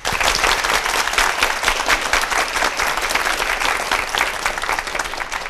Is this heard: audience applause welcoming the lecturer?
yes